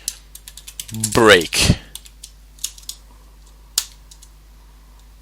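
Rapid key taps on a computer keyboard entering programming code, sharp and close, coming in an uneven run before and after a short stretch of speech.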